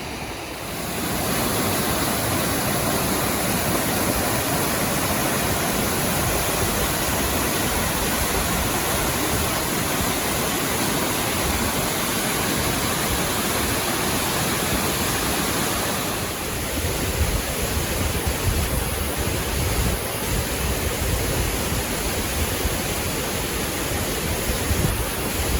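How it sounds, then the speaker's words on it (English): A huge, continuous waterfall in Idaho roars as a loud, steady broadband rush of falling water with no pauses, close by and with no voices over it. "if so, it's just one huge continuous waterfall"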